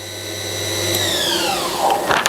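A 2010 Fryer MC-5 CNC vertical machining center spindle spins at up to 6,000 RPM, a close, steady machine whine whose tones glide downward as it slows, ending in a few clunks.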